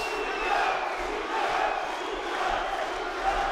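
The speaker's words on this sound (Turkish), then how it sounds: "Kubilay tezahüratları var" A kickboxing arena crowd at a WAKO world title fight chants in rhythmic waves for the Turkish fighter Kubilay Tarhan, a distant, reverberant roar that rises and falls under a hall ambience.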